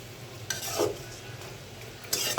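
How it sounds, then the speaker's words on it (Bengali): A rohu fish head fries in a cooked-down spice paste in a pan, stirred close up with a soft sizzle and scraping bursts of the spoon moving through the paste. "এখন আমি মাছের মাথাটা দিয়ে দিলাম। একটু নাড়াচাড়া করে ঢেকে দেব।"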